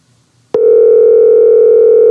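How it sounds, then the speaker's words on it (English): A loud, steady electronic ringback tone from a Facebook Messenger call starts abruptly after a click and holds continuously, close and alone without talk. "All right, we're ringing."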